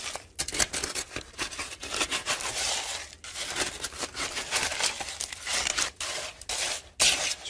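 Cement, aggregate and water being mixed by hand into wet concrete, giving a continuous close scraping, crunching and sloshing texture with irregular strokes and no talking.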